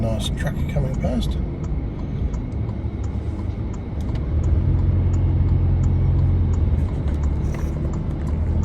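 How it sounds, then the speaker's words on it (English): A truck drives past on a road near a marina construction site, its low engine rumble swelling and holding steady in the second half over outdoor background noise. "Nice truck coming past."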